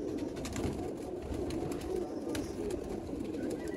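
Sialkoti pigeons of the Professor Imtiaz line coo steadily at close range, a low continuous rolling murmur from several birds layered together with no talk over it.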